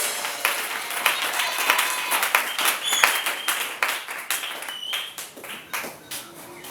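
A church congregation applauding, an irregular, fairly close patter of many hands clapping with rhythmic surges, continuing steadily without talk.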